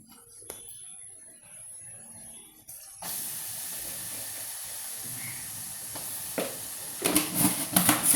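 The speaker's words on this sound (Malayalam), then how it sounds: "ഒരു 2 ടീസ്പൂൺ മല്ലിപ്പൊടി ഇടാം." Coriander powder roasts in a hot pan as a steady hiss rises abruptly and holds, with a few faint clinks and a stir clatter near the end.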